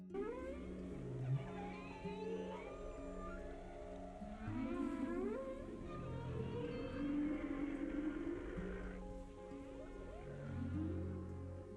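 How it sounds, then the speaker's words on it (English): Whale song plays from a neal.fun web page, slow moaning and sweeping tonal calls with deep rumbling undertones rising and falling across the whole stretch, fairly faint. "Share this whale song with your whale friends so they can learn about this page."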